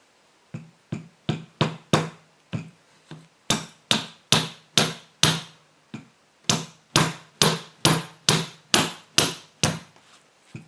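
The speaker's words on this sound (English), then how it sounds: "So this should just pop out with the hammer." A hammer strikes a car turbocharger again and again to knock out a part, about twenty sharp ringing metal blows in uneven bursts, loud and close, with no talking.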